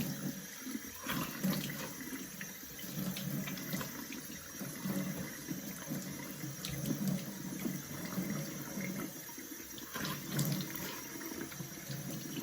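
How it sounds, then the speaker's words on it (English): Cold tap water runs steadily into a sink while someone splashes and washes their face, a continuous close wash of running water and irregular splashes with no talking. "I'm going to turn this off and I'm going to wash my face."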